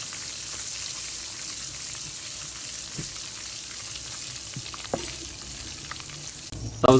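Ginger garlic paste frying in a pan with cumin and red chilli, a soft steady sizzle with occasional light stirring clicks and scrapes, faint and close.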